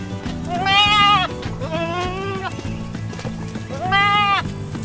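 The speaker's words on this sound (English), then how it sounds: "Okay, the goats are out." Goats on a farm bleating in three loud, wavering calls spaced across a few seconds, with a steady low rumble of farm background underneath.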